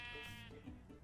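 A single Minecraft sheep gives a short, clear bleat, quiet and alone with no talk around it.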